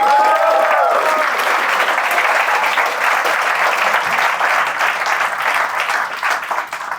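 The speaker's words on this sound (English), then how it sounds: "give her a round of applause" A seated audience bursts into sustained applause, dense and loud at first and tapering off gradually over several seconds, with a brief voice at the start.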